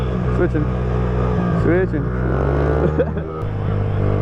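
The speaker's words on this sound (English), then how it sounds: "There's a car." A car passes on a road near a pit bike by a rough bridge, its engine hum rising and fading under close, loud talking voices.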